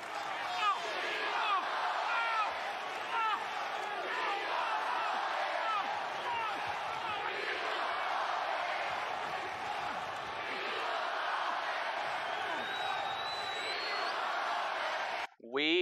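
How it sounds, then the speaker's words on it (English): A packed wrestling arena crowd at WWE Monday Night Raw roars continuously, a dense wash of cheering, whooping and shouting that holds steady for about fifteen seconds and cuts off abruptly at the end. "Just these 3 minutes, listen to this crowd."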